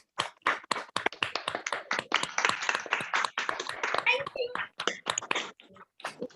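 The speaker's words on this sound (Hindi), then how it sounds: "सब अनम्यूट करके तालियां मारो जरा।" Participants in an online acting training class clap after unmuting, uneven bursts of close hand claps from several sources, with voices talking over parts of it.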